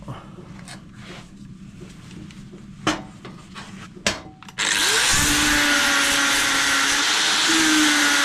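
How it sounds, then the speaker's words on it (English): Angle grinder cuts loud and steady into the damaged side stand of a Yamaha XT660, starting about halfway through after a few bangs and some handling noise, then running continuously and dropping slightly in pitch under load. "what I'm going to do is sort of grind that mess back and see what we've got."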